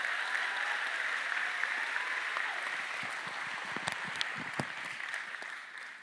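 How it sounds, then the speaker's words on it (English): Teachers in an audience applaud themselves at a Meadowcreek Cluster opening ceremony, a steady, dense round of clapping that holds at an even level for about six seconds, with a few sharper claps standing out near the end. "please give yourselves a round of applause"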